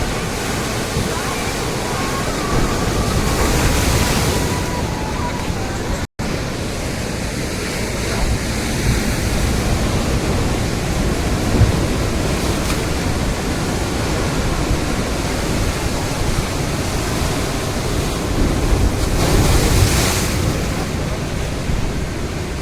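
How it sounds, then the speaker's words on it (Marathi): Broad roar of ocean waves washing in and breaking on the shore at Malvan, swelling and fading in a steady wash, with some wind. "लाटा मोठी आहे बघा"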